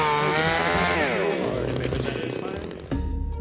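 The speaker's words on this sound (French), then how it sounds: "Ou plutôt un coup de tronçonneuse." A chainsaw cuts through the top of a tree, its engine screaming close and loud, revving down as the cut slows, then a sharp drop and a lower idle.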